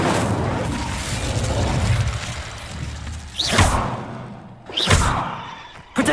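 Incendio fire spells cast in Hogwarts Legacy, two sharp whooshing bursts with deep thuds, each rising quickly and fading, over a rumbling battle background.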